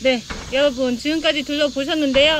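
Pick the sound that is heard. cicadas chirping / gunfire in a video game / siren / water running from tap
cicadas chirping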